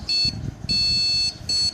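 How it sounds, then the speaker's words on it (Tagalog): Three shrill electronic beeps from a computer motherboard buzzer, a short one, a longer one, then another short, clear and close with faint background noise between. "yung ating buzzer"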